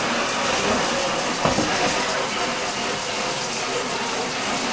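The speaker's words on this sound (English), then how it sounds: "For me, this is as simple as a little running water." Running tap water at a sink rinses barley fodder trays, a steady close gushing splash with slight shifts in flow throughout.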